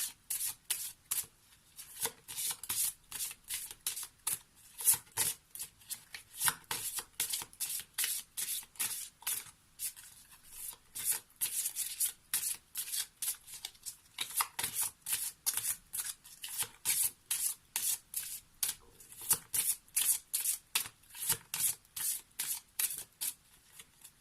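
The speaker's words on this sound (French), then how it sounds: "on va prendre une carte issue de l'oracle des contes de fées pour ce jeudi 21 janvier" Oracle cards with a fairy tale theme are shuffled by hand in a steady run of crisp riffling bursts for about twenty-four seconds, close up and alone with no talk.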